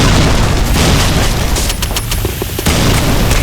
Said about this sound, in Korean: 저거 수류탄 얼마나?